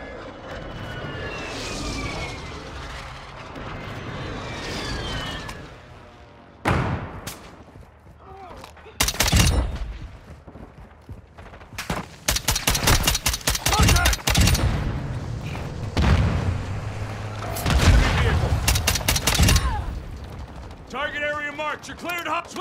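An A-10 strike in Modern Warfare 2 brings aircraft engine roar and long bursts of rapid cannon fire ripping through the scene, loud and repeated, with radio chatter and voices between the bursts.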